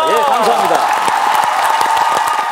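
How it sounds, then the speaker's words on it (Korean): Studio audience on a Korean KBS TV variety show applauding and cheering, a loud dense burst of clapping mixed with crowd noise and a host's voice over it. "유소년 야구 발전에서 박수 한번 보내드리죠."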